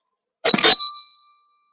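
A single struck bell in a music lesson, one bright metallic ding with a sustained ringing tone that slowly fades into silence, nearby and alone.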